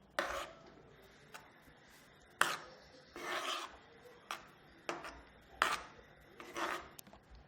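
Cardamom powder and dry ginger powder being stirred into a pot of paruppu payasam, a sweet lentil pudding, with a string of soft scraping and rubbing strokes in an irregular rhythm. The strokes are close and fairly quiet, and no one talks.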